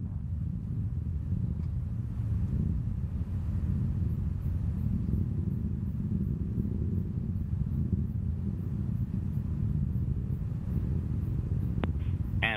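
Steady low roar of a rocket with three solid boosters climbing during the OCO-2 launch, a dense continuous rumble heard from a distance with no voices.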